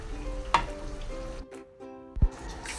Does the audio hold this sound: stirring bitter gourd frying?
yes